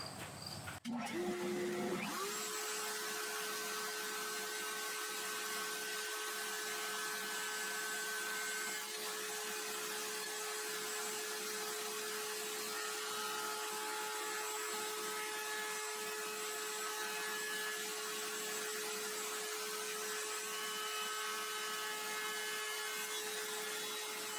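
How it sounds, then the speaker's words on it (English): A router fitted with a bevel bit cuts an angled edge in wood, a steady high motor whine holding constant for about twenty seconds after a brief start-up, close and alone with no talking. "we're going to use a bevel router bit to get the angle cut"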